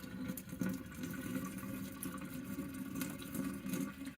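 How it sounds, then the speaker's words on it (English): Boiled water pours into a clogged kitchen sink with a steady, faint splashing gurgle that runs throughout, close by and without talk. "I'm pouring some boiled water."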